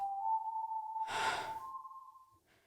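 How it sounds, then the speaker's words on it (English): A single tense breath is let out, a short, soft rush of air over a thin, steady high whistling tone that continues faintly before fading into near silence. "I let out a breath."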